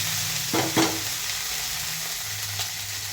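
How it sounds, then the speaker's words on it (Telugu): Cut green bean pieces go into a hot pan for a tomato curry, with two quick clattering drops and a stir stroke over a low, steady sizzle that continues to the end. "ఇప్పుడు బీన్స్ ముక్కలు వేసేద్దాం"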